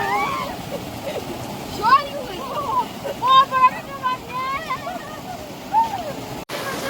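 Splashing and rushing water in an icy mountain stream, with excited voices and shouts over the steady flow close by.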